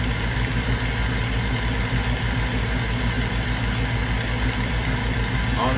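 A laser machine cutting wood bead looms gives off a steady, loud mechanical hum with a faint pulsing throb, continuous and unchanging.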